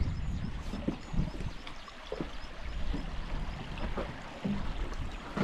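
A shallow stream flows over rocks on Whernside, a faint, steady babble with small irregular splashes and gurgles throughout and no voices.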